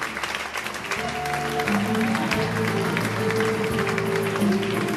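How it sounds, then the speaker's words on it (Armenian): Guests at a wedding celebration applaud together in a sustained, even burst of clapping with crowd murmur and a faint tonal hum of music underneath. "Եկեք ժորժյանի ևս մեկ անգամ ծափարենք ու ողջունենք մեր երիտասարդ առաջնորդներին"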